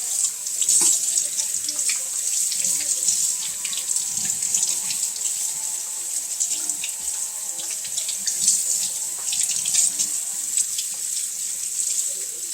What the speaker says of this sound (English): Under cold water, rinse both hands to get the feathers off.